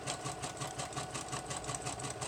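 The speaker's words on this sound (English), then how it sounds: "My sewing machine actually cuts it for me." A home sewing machine runs in a steady, fast mechanical whir with a regular pulsing rhythm while stitching a packing-paper journal, close and even throughout, with no voices.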